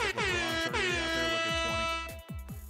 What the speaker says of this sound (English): Let's give some air horns for Mini XP to come out.